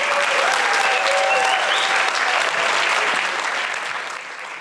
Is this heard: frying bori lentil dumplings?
no